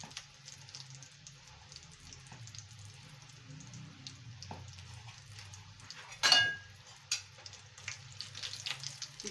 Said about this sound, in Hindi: हल्की आंच पे हम इनको फ्राई करेंगे।